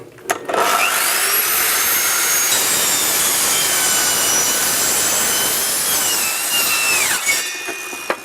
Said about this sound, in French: L'idéal, c'est de disposer d'une scie radiale comme celle-là